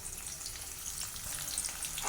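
Chopped onion fries in hot oil in a pan for garlic rice, giving a steady, close crackling sizzle with no breaks and no talking.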